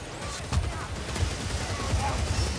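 Muffled, distant gunfire from an enemy gunner in Warhammer Vermintide, a steady low rumble of shots beneath a voice talking and a dense game soundscape.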